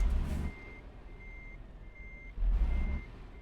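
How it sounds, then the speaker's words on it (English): A truck in a trucking simulation game idles with a low engine rumble while a steady reversing beep repeats in the background, and the engine noise surges louder twice. "Now everybody can still hear my truck,"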